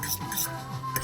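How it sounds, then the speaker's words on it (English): Utensil stirring INA Pan Mee Goreng dried curry instant noodles in a pan, a quick series of close scraping and clinking strokes over a faint sizzle, no voices. "Let's stir this."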